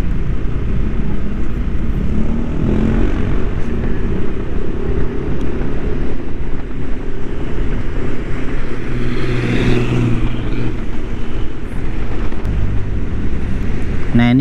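Dense midday traffic on the Jogja–Solo toll road near the Colomadu and Kartasura exits, a steady broad rumble of passing vehicles and tyre noise with wind buffeting, heard from inside a moving vehicle while someone talks over it.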